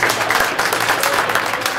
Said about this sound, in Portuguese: Salve de palmas pra ela.